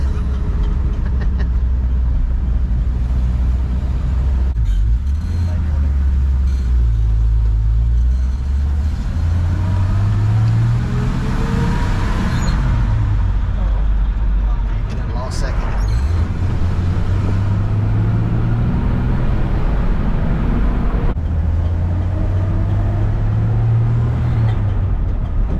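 A 1971 Chevy C10 pickup drives downhill with braking, its engine note rising and falling under steady road and wind noise, close and continuous.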